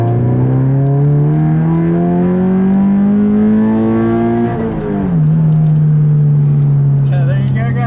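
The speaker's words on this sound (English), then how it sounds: "I'll leave you with a nice little acceleration here like I always do" A Subaru BRZ accelerates hard, its engine note climbing steadily through a gear, dropping briefly at a shift, then pulling on loud and close from inside the car.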